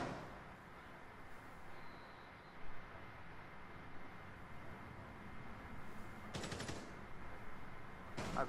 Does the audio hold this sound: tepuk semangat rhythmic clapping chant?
no